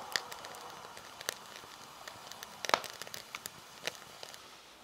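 Freshly harvested 2021 rice cooks in a pot over a wood fire in an irori hearth, with scattered crackles and pops from the burning wood and a soft, steady hiss beneath, all faint and close, with no talking.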